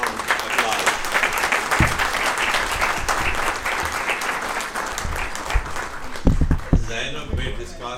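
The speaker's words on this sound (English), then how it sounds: "Please give her a warm applause." Warm applause for a guest at a talk event, a sustained crowd clapping that stays fairly loud and even throughout, with a few heavier thumps near the end.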